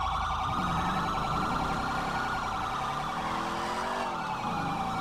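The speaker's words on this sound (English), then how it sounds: "Oh, every siren is just blaring." Several police sirens wail at once in GTA V with the LSPDFR mod, loud, continuous and overlapping, their pitch sweeping up and down.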